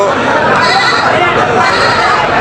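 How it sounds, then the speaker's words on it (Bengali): Goats at a weekly Sunday goat market bleat loudly and close, their calls mixed into a continuous din of crowd chatter and talking. "এখানে কিন্তু অনেক ছাগল আছে দেখেন"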